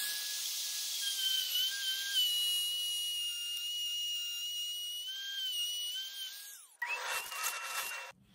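A handheld router that is not a plunge model is pushed straight down into wood for a plunge cut while a circle is cut for a baby name sign. Its high, steady whine varies slightly, winds down, then gives a brief harsh final burst.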